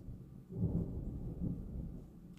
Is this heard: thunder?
yes